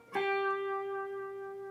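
An electric guitar double stop is struck already bent, then the bend is released downward; a single plucked chord rings out and sustains, fading slowly with no talk.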